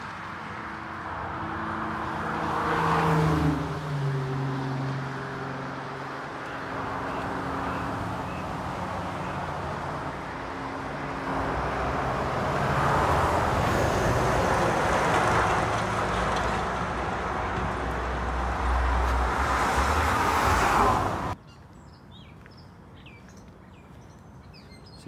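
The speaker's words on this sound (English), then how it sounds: "I am crossing the Pennsylvania Turnpike, Interstate 76." Traffic on the Pennsylvania Turnpike, Interstate 76, heard from a crossing along the Appalachian Trail: a steady broad roar with vehicles swelling past, then a sudden drop to a quiet outdoor background with faint birds.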